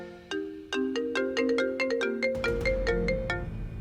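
A phone ringtone plays a bright, melodic run of rising tones with steady rhythm, close and clear with a low hum entering partway through, no talking over it.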